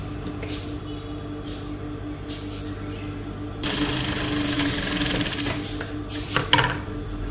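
A sewing machine stitches cloth for a pillow made from waste clothes. A softer mechanical rattle in the first half turns into a steady, louder run of stitching in the second half.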